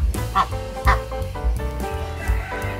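Chickens, a rooster and a hen at a Thai farm pen where the rooster tends a brooding hen, make repeated nasal clucks and honking calls. The calls are close and fairly loud and come in irregular bursts.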